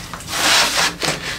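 Wood being cut by hand to open a hole in a composting toilet box, giving a steady rasping, rubbing saw sound in two or three strokes, close and moderately loud, with no talking.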